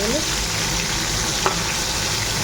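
Food frying in a hot pan, a steady dense sizzle that fills the whole stretch at an even, close level, with a brief stir or clink partway through and no talking.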